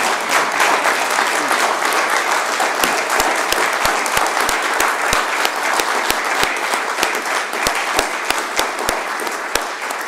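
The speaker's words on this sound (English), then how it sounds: "let's give them all a big round of applause" Sustained audience applause at a mayor's news conference, a dense, steady wash of clapping from a sizeable crowd that holds for the whole stretch, with a few sharper individual claps standing out.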